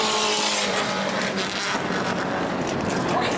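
A bomber-class race car roars past on a qualifying lap at New Smyrna, loud and steady throughout with a broad engine rasp and no voices.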